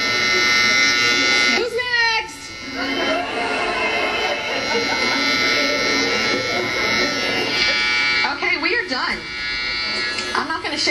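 An electric razor shaves off eyebrows down to the skin, giving a steady close buzz that runs nearly unbroken throughout while people talk over it.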